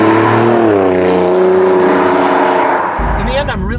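A 2017 Alfa Romeo Giulia Quadrifoglio in race mode roars loudly, its engine note climbing steadily in pitch before a sharp shift near the end, with a voice talking over it.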